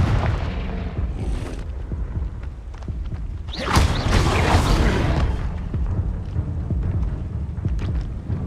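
Confringo blasting spell explosion in Hogwarts Legacy, a sharp fiery whoosh and boom in the middle that bursts over a rumbling low background of battle noise and smaller impacts.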